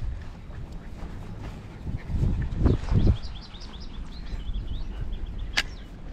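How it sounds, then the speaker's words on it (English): Thin, high bird chirps repeat in a quick series, with a louder chirp near the end, over rushing water and low outdoor rumble. "there's a bird down there."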